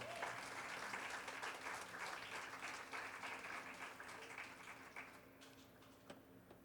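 A church congregation gives sustained applause, a faint, distant wash of clapping that fades gradually, with a few isolated taps near the end.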